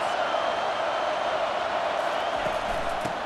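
Stadium crowd cheering in the College Football 25 video game, a dense, loud, continuous roar of a large crowd with no breaks.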